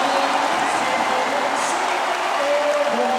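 A big arena crowd at a men's college volleyball championship match roars and applauds in a steady, loud wash, with a commentator's voice faintly underneath.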